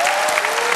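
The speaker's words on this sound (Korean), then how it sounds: "박수 치고 그러지 마" A studio audience at a televised comedy sketch show bursts into loud, dense applause for a brief moment.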